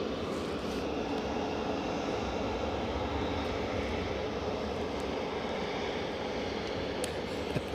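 A Ryanair airliner's jet engines roar steadily and loudly near an airport runway in light drizzle, a continuous broadband rush holding level for several seconds with no voices.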